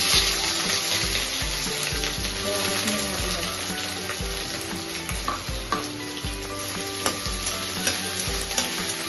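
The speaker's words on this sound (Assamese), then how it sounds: "প্ৰথমে এইখিনি আলুখিনি ভাজি ল'ম" Close, continuous sizzling of potatoes frying in oil with a dried red chilli, with frequent scraping and clinking from stirring throughout.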